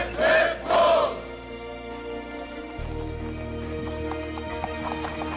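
Horses of the Indian President's Bodyguard clip-clop along Delhi streets, a steady run of hoof strikes at moderate distance under a low hum, following two loud shouted calls at the start.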